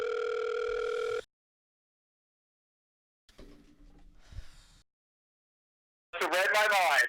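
A telephone call: a steady tone cuts off, then comes a stretch of faint line noise and clicks, and finally a loud warbling ring burst near the end; no voices are heard.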